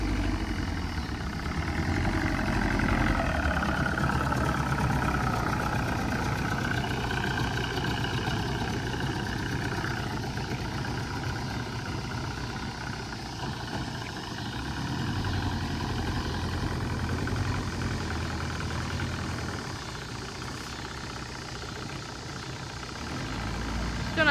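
A motor runs steadily on a homemade houseboat afloat on the water, a continuous low droning hum that holds an even level throughout, with faint wind or water noise around it.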